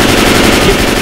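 Rapid automatic gunfire in the Left 4 Dead video game, a loud, dense burst of shots that fills the whole moment with no speech.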